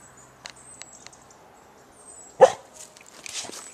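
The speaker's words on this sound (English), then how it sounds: "Can you hear another doggy?" A dog barking in the distance, faint single barks and yelps heard alone over a quiet indoor background, with one sharper bark standing out midway.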